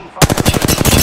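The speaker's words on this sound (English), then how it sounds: "I am taking fire." Apex Legends gunfire, a loud, close burst of automatic fire with about ten rapid, evenly spaced shots in just under a second, following a brief quiet moment.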